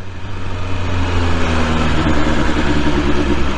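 A BMW S1000R motorcycle engine with stock exhaust runs close by with a deep, steady rumble, rising slightly in pitch as it's revved gently.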